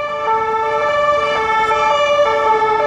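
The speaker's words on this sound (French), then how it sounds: "à chaque fois que je fais une vidéo, hein, c'est rare qu'il n'y a pas de sirène" An emergency vehicle siren wails loud and close on the road, its steady two-tone pitch swinging back and forth over passing traffic noise, with no talking.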